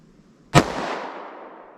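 A single sharp 9mm pistol shot from a Taurus G2C with a 3.2 inch barrel, loud and close, followed by a long fading echo and no voices.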